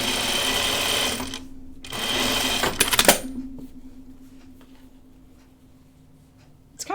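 A home sewing machine stitches a French seam on a Carolyn pajama top in two quick bursts, followed by snipping and handling of fabric, close and with no speech.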